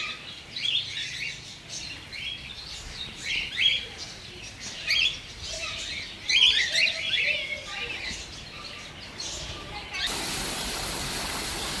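Cockatoos and parrots call repeatedly in a bird park, a scatter of sharp chirps and squawks at moderate distance over a steady outdoor hiss, with a louder burst of noise near the end.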